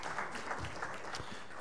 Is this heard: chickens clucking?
no